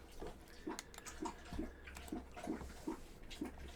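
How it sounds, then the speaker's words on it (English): A dog drinking water with repeated rhythmic lapping, about two laps per second, faint and close, with no talk over it. "It's another dog drinking."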